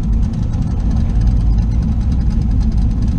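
A twin-turbo LS V8 in a third-generation Camaro idles loudly up close, a deep, steady, throbbing rumble with an even rhythmic pulse.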